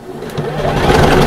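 Close, loud sewing machine stitching a bag: a steady, rapid mechanical whirr that builds slightly over a little more than a second, with no talk.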